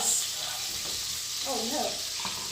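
Light olive oil and butter heat in a skillet with a steady, close sizzle and faint crackle running throughout, and a brief tonal murmur partway through.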